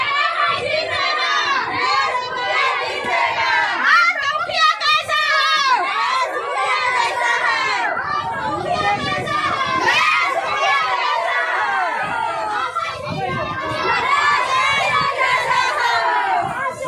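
Large crowd of villagers at a panchayat election rally in India shouting and cheering continuously, loud and close, with children's voices and chatter mixed through the dense noise.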